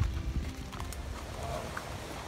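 Horse hooves clip-clop during a ride in Australia: a run of irregular, fairly close thuds that are strongest at the start, then settle into a muffled patter with no talking.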